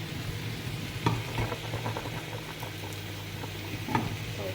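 Onions browning in a little oil with salt over the heat in a home kitchen, cooking for Moroccan rfissa, give a steady close sizzle and bubbling hiss, with a few louder spoon-stirring clatters breaking through.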